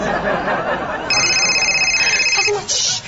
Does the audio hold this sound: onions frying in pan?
no